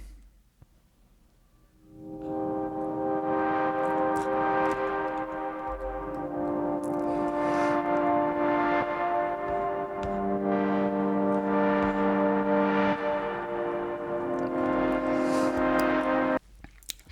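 Sustained synth chords from the Diva synthesizer plugin in Ableton for an electronica track, entering after a brief quiet start and holding a warm, steady pad through several slow chord changes, with no voices.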